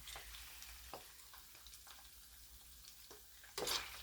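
Pork chicharon fries in its own rendered fat, a soft continuous crackle broken by scattered pops and spits, ending in a louder burst of splattering, no voices.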